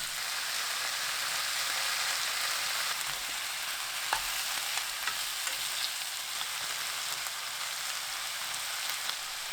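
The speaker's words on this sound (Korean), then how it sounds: "지글지글 소리 나면 닭 넣고 2분 구워줍니다." Chicken sizzles in a pan of hot cooking oil and minced garlic over high heat. The frying crackle is continuous and even, with a few sharper pops and no talking.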